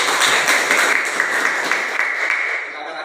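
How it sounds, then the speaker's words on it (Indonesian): Classroom group clapping together on cue at the close of a children's lesson, a dense, steady patter of hands held for about three seconds before easing off slightly at the end. "tepuk tangan untuk kita."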